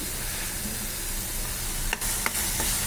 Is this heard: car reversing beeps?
no